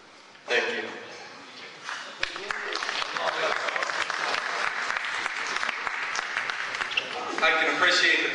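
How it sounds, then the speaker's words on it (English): An audience claps after a speech, with applause swelling from scattered hands into steady, fairly loud clapping that holds throughout and grows briefly stronger at the close. "I can appreciate the people clapping"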